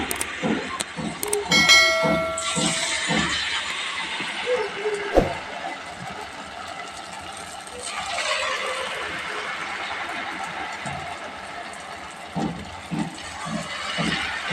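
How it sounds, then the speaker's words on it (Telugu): Mysore bonda batter drops into hot oil and fries, a continuous bright hiss with a few clunks and taps early on, fairly close and steady. "2 వైపులు తిప్పుకొని ఇలాగా ఫ్రై చేసుకోవాలి."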